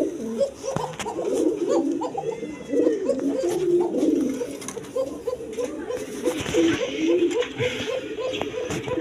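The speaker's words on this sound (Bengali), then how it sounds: "দেখেন একদম চঞ্চল কবুতর, সুস্থ সবল" Giribaz pigeons cooing close by in a steady, overlapping murmur of low coos, with someone talking over them at times.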